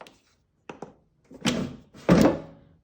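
A drawer of a Ninja Dual Zone air fryer is pulled and pushed, giving a few soft plastic clicks followed by two louder, close sliding thunks, with no talking.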